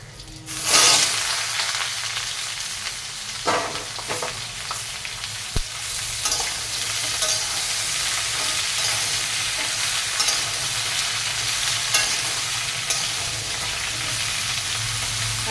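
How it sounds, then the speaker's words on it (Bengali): Curry leaves and five-spice sizzle in hot oil as a vegetarian curry is tempered, a loud, continuous frying hiss with occasional scraping stirs of a spoon in the pan. "আজকে নিরামিষ তরকারিতে কারি পাতা দিয়েছি, কারি পাতা দিয়ে পাঁচফোড়ন ফোড়ন দিচ্ছি"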